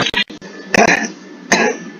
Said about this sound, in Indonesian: Bapak juga batuk-batuk ini